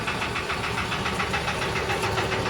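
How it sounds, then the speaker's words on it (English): A Lister CS 8/1 diesel engine's air inlet gives a steady, loud roar with a continuous broadband rushing hiss and a faint rhythmic pulsing, heard up close with no talking. "The noise that you can hear now is the inlet."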